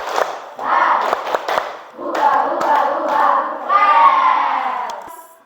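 A classroom of students performs a rhythmic spirit clap in patterned bursts of claps, chanting and cheering voices, loud and close, with short pauses between phrases.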